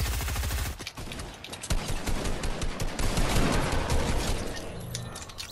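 Rapid bursts of automatic gunfire in the video game Fortnite, dense and loud, with a short pause near the one-second mark before the shots resume and continue to the end.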